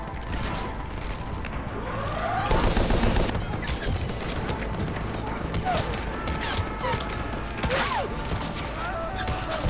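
Cannon and rapid gunfire crackle through a Mass Effect 3 battle in quick bursts, with a dense volley in the middle and voices talking over the game.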